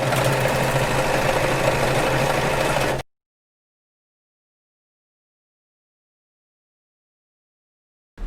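Sewing machine stitching a fabric strip folded right sides together: a steady, close mechanical whirr for about three seconds, then silence.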